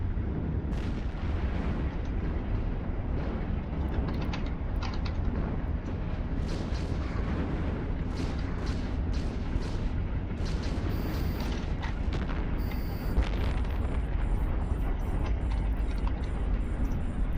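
Smart bombs fire continuously from a Kronos ship in a space combat video game, a dense roar of rapid booming blasts and rumbling explosions layered with occasional electronic tones.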